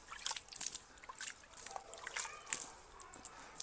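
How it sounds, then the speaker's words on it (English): Water poured from a container onto a surface being prepared for mortar outdoors, a soft trickling and splashing that comes in uneven bursts, faint and close. "First we are going to put wet a little bit the surface. We pour some water there."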